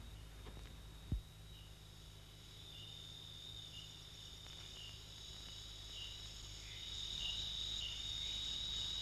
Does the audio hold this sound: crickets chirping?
yes